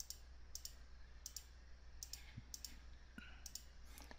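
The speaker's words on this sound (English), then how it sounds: "And we'll click the button." Mouse clicks on a button in a phone emulator on a computer, several light, close clicks repeating at uneven intervals over a faint steady hum.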